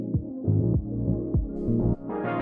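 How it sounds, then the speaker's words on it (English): Kick drum thumps land roughly every 0.6 seconds over a sustained, gliding bass line in a remix, with no vocals; the kick uses an Oliver sample, and a brighter synth layer creeps in near the end. "I wanted to start off with just the kick and the bass line, which sounds like this without the vocals."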